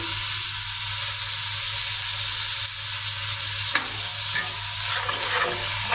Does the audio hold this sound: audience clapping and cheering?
no